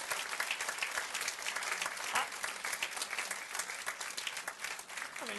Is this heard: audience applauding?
yes